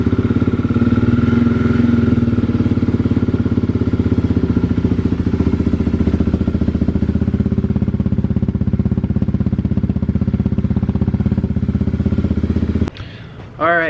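A Kawasaki KLX351 dirt bike engine runs after a valve check, a loud, close, steady single-cylinder idle with rapid even firing pulses for about thirteen seconds before abruptly cutting off, followed by a brief whirring.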